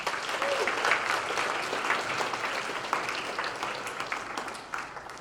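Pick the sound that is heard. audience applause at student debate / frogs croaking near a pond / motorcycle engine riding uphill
audience applause at student debate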